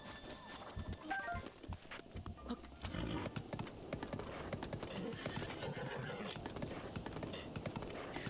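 Horses neigh and whinny amid a steady clip-clop of hooves in the video game The Legend of Zelda: Breath of the Wild, with voices talking underneath throughout.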